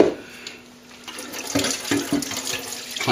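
Water runs and splashes from a tap while old Kalsomine is washed off a plaster cornice moulding, a steady close rush with louder bursts of spraying toward the end.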